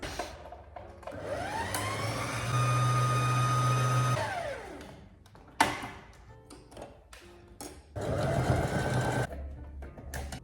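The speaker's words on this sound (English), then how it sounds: "I hate that I have to put thread in my bobbin now that I am at the end of the project." A sewing machine winds thread onto a bobbin with a steady, rising motor whir that holds for a few seconds and then spins down. Softer handling clicks follow, and then a second short burst of running motor.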